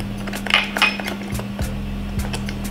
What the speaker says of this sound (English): stir all that goodness together